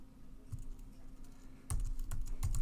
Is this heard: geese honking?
no